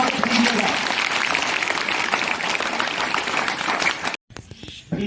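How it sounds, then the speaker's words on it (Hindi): Students applauding at a school morning assembly: a sustained wash of clapping from a large group fills most of the stretch, then cuts off abruptly into quieter room sound. "जोरदार तालियों का स्वागत कीजिएगा"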